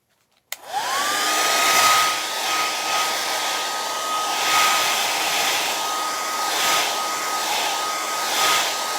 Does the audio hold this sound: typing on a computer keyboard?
no